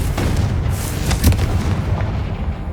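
Confringo explosion spell cast in the video game Hogwarts Legacy: a dense, rumbling blast with a sharp burst near the middle, set against continuous low booming game noise, no talk.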